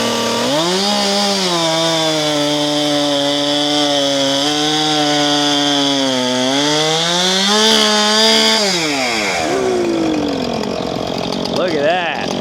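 A chainsaw runs close and loud at high revs cutting flat ends on posts, holding a steady whine before winding down near the end.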